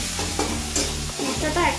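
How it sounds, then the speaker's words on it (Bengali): Spice masala being stir-fried in oil for a vegetarian potato dum, a steady close sizzle with scraping stirs throughout and no talk. "মশলাটা কষাচ্ছি"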